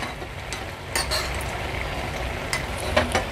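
Pistachios sauté briefly in ghee in a pan for carrot halwa, giving a soft, low sizzle broken by a few sharp metal clinks and scrapes as a spoon moves them around.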